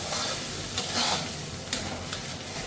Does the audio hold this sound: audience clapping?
no